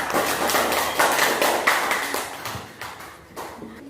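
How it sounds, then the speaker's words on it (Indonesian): A classroom of students claps for a group after its presentation, a run of quick sharp hand claps that fades and thins out over a few seconds. "tepuk tangan dulu untuk kelompok 4"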